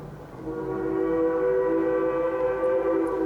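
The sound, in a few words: Durango Silverton narrow gauge railroad train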